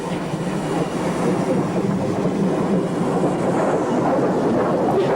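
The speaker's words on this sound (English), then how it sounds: "A Dean Goods is heading north through the station with an engineer's train." A Dean Goods steam locomotive hauls an engineer's train north through a Great Western station, a steady rumbling roll of wheels and carriages at moderate distance, continuous with no talk.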